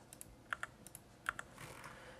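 Computer keys and mouse buttons are pressed while deleting selected items, a few sharp close clicks in small pairs separated by brief pauses, fairly quiet against a soft background.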